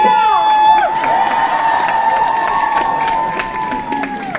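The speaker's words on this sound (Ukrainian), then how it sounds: "Овації собі, скажіть собі" A crowd at a Ukrainian patriotic rally cheers and applauds loudly, with whoops, shouts and sustained voices swelling into a dense ovation that holds steady throughout.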